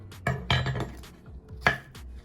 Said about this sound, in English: get the spoon and scrape it out